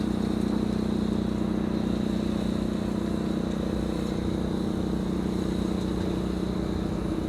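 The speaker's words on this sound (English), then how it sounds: "So the next airplane approaching is number 190, arriving from Billund, KLM 9935." A KLM airliner inbound to Amsterdam Schiphol from Billund, heard as a steady, loud, unbroken engine roar with a deep low rumble that holds throughout.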